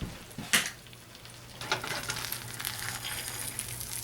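A farm fresh egg dropped into a buttered Cuisinart Multiclad Pro stainless steel pan, a sharp crack-like clink followed by a steady close sizzle that swells and holds, no voices.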